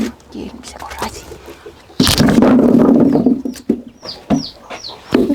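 Ducklings peeping on a rural Estonian farm, several short high chirps in quick succession near the end, following a burst of clucking and splashing, with nearby rustling and handling noise.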